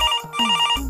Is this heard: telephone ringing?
yes